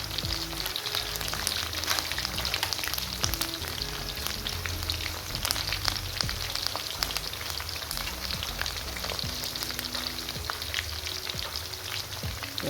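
Ayam tangkap chicken pieces fry in hot oil with curry leaves and pandan leaves, giving a steady, dense, crackling sizzle throughout with no talking.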